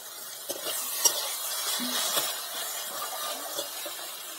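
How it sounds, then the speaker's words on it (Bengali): Onion, green chilli and tomato sizzle steadily in a hot pan, with a few light clicks of a utensil stirring them. No voices. "সমস্ত কিছু খুব ভালো করে ভেজে নিচ্ছি।"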